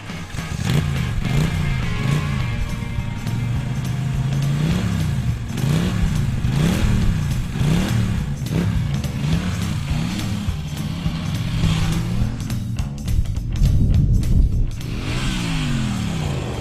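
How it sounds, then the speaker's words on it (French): A Norton Dominator motorcycle revs hard on the Montlhéry circuit, with a loud, close engine rising and falling in repeated throttle sweeps and gear changes throughout and no talk. "on va le retrouver donc avec la Norton Dominator sur le circuit de Montlhéry"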